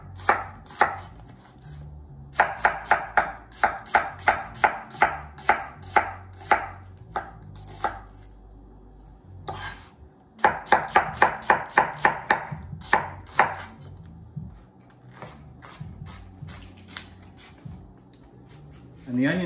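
A knife slices a large Spanish onion thinly on a cutting board, with quick, even chops in two steady runs separated by a short pause, crisp and close.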